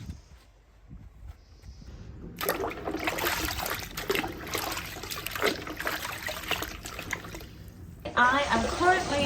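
Prolapse harnesses for ewes are scrubbed and washed in water: a quiet start, then continuous sloshing, splashing and rubbing that swells louder toward the end.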